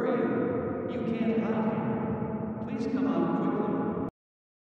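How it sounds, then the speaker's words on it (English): A voice processed with a heavy reverb effect in Audacity rings out in a washed, echoing wash of tone that cuts off abruptly near the end. "Only reverb will add this sound."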